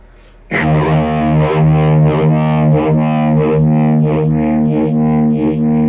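A sustained electric guitar chord through a BOSS eBAND JS-10, set for a 1960s sound, rings out with a swirling, sweeping phaser effect pulsing steadily throughout.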